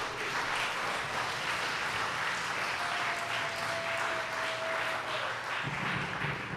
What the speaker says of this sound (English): Please give your warmest round of applause for Rebecca Mandich.